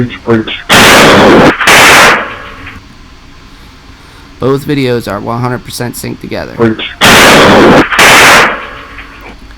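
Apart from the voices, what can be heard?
police officer's gunshot right after a door breach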